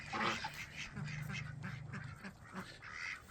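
Several ducks quacking on a small homestead flock, a run of loud nasal calls close by with overlapping squawks, no voices.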